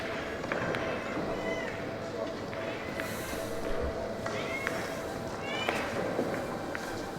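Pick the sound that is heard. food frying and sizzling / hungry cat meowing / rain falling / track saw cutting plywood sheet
hungry cat meowing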